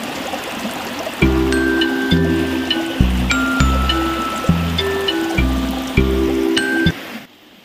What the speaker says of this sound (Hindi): बहुत ही ज़्यादा पानी चल रहा है।